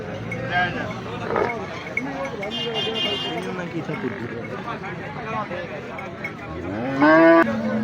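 At the Kharian livestock market in Punjab, cattle moo amid steady crowd chatter, with one loud, drawn-out moo close by near the end.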